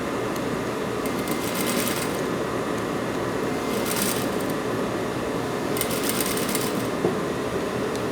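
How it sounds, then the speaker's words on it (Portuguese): A sewing machine stitches the collar onto a plaid button-up shirt, running in a steady, continuous whir with a few brighter rattling bursts, close and alone without talk. "aqui você vai colocando a gola, ó, encaixando a gola bem certinho e vai costurando"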